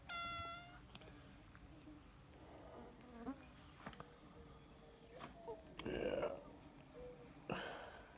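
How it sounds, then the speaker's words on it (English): A cat meows a few times on a farm, faint and intermittent among buzzing insects and outdoor background sounds. "Meow."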